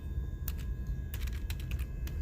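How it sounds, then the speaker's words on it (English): Keys clatter in short bursts on a computer keyboard while a command is entered on a PC being set up with a Cisco router, the crisp clicks audible over a steady low hum. "we're going to type in IP"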